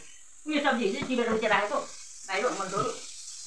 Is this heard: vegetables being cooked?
yes